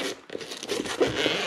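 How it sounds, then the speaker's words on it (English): Zipper being pulled open on a fireproof eBike battery bag, a short scratchy run of rasping zip noise lasting about a second and a half, close to the mic with no talking. "So we're going to unzip this bad boy"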